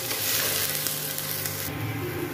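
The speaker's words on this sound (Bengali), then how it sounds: "দিয়ে এগুলো বেশ ভালো করে ভাজা ভাজা মতন করবো।" Chillies fry in a pan with a continuous close sizzle and crackle, stirred as they cook, steady throughout with no talking.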